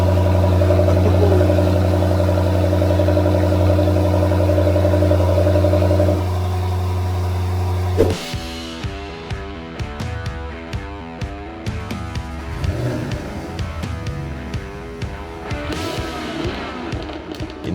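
A Jaguar F-Type with active exhaust, first holding a steady loud idle drone, then revving sharply into a series of choppy, crackling bursts and pulses that continue to the end.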